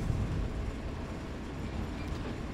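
A train speeding along in a video game gives a steady, loud rumble and rattle of rail wheels throughout, with no voices over it.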